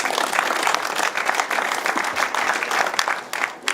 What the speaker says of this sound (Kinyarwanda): tugabira ababyeyi amashyi